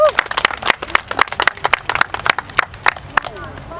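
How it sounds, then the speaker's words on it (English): A crowd at a Southern Cameroonian rally on Capitol Hill claps, sharp uneven handclaps close by, loud and somewhat sparse, with voices mixed in. "I'd like us to clap for ourselves."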